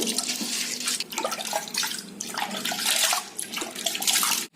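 Water splashes and pours steadily for appam batter preparation, a continuous close liquid rush with small breaks, no talking.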